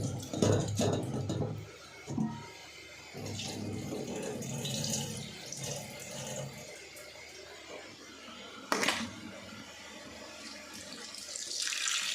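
Water from a tap pours into a pan in a home kitchen, a steady running splash that fades back after a brief louder start, with a few clanks of cookware and a short bump near the end.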